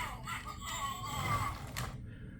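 A faint, brief, high-pitched wailing cry effect from a Carrera slot car ambulance, meant as a patient crying in pain, heard over low rumbling background noise.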